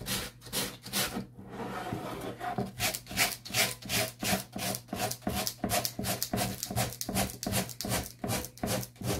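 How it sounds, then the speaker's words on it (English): Rhythmic back-and-forth rasping of fine grit sandpaper smoothing the edges of milkweed paper, steady strokes repeating about twice a second, close and dry, with no voices. "when you sand it with a soft grit, you know, fine grit sanding paper, it smooths your edges out"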